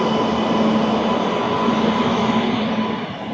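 A passenger train rumbles past close by, a loud steady roar of wheels on rails with a faint tonal hum, easing off slightly at the end.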